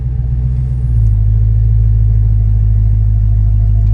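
A 1025 HP Dodge Demon 170 drops into reverse with a deep, steady engine rumble that swells slightly after the first second, then holds loud and close without any revving.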